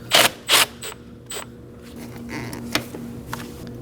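A 10mm socket ratchet loosens a hose clamp on a 2011-2016 Kia Optima, giving a few short ratcheting bursts early, then faint clicks over a steady background hum.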